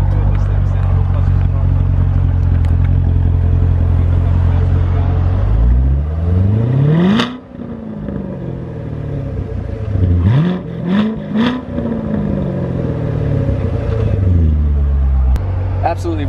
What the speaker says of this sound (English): Absolutely ridiculous exhaust sound. The V8 that they use, that Chevy designed for this car, sounds immaculate.